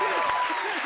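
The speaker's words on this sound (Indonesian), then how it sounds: "Ini kita kasih tepuk tangan buat Wendy, Tata, dan Muter lagi." Studio audience applause on an Indonesian comedy show, a brief steady wash of clapping heard alone.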